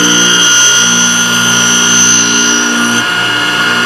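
A Thorvie AV-40 saw and tool sharpening machine motor runs steadily while sharpening jointer and planer knives, a loud, constant hum with strong tonal harmonics that hardly changes throughout.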